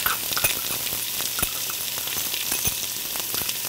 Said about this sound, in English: And we'll let those cook for a few minutes, in with the chicken and the oil.